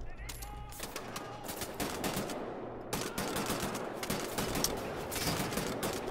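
Rapid bursts of automatic gunfire from the Wolfenstein: The New Order video game, loud and dense, with short gaps between volleys and sharp individual shots mixed in.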